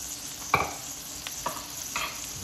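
Honey jerk salmon fillets frying in a pan, a soft low sizzle with three brief utensil taps or scrapes, fairly quiet and close, no voices.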